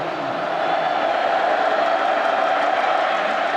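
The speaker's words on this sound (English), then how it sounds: "Credit the crowd noise" A college football stadium crowd at Texas Tech versus Kansas State, a steady, loud roar of many voices holding evenly throughout with no break.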